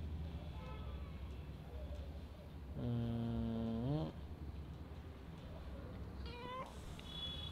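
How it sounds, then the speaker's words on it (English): A house cat gives one loud, drawn-out meow and, a few seconds later, a shorter, higher meow. Both sound close by over a steady low background hum. "Oh, my cat is here."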